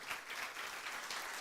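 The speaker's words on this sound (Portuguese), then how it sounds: "Pode aplaudir o Senhor." A church congregation applauding, a steady broadband wash of clapping held at an even level for the whole short stretch, fairly distant and without talk.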